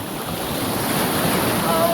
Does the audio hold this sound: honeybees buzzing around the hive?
no